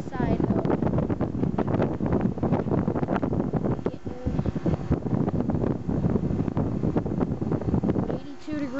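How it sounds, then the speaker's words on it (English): A central air conditioner condenser fan pushes out a strong, steady rush of air. The broadband roar is loud and close and continues throughout, with a brief dip partway. "Air coming out of that fan."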